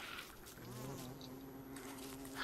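A bee buzzes in the game Don't Starve, a close, wavering insect drone that rises and falls continuously, fairly faint and heard alone.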